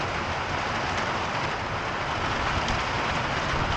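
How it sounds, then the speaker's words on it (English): Heavy rain pours down on a farm during a flash flood, a dense, loud, continuous roar with no break and no voices. "That's a little bit of rain right there."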